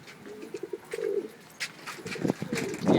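Pigeons coo in short low bursts inside a small loft holding birds from many places, close by with some rustling and background noise between calls.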